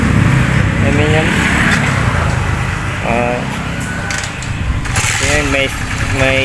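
A repossessed superbike engine starts and settles into a steady idle, a continuous mechanical rumble running under someone talking throughout.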